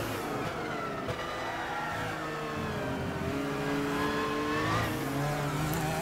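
An LMP prototype race car engine in Gran Turismo 6 revs hard through a fast corner at Spa, its pitch rising and dipping as the throttle is eased and reapplied, steady and fairly close with no speech.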